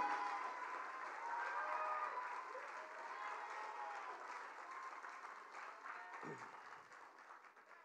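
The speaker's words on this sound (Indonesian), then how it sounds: "berikanlah tepuk tangan sekeras-kerasnya kepada Bapak Prabowo Subianto" A large audience at a party candidate briefing breaks into sustained applause and cheering for presidential candidate Prabowo Subianto, a dense clapping roar that fades slowly.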